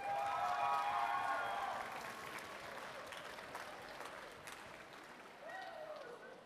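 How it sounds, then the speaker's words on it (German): Audience applause at a convention award ceremony, dense clapping that is loud at first and then eases to a steady, softer level, with a voice briefly audible over it. "jetzt noch mal laut Applaus!"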